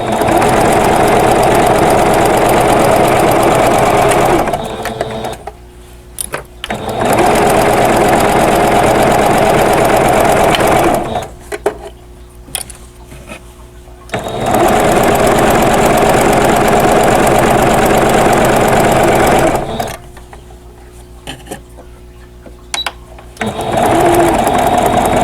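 A sewing machine stitches a quilted pillow cover, running in three long, loud, steady bursts of rapid mechanical whirring with brief pauses where it stops.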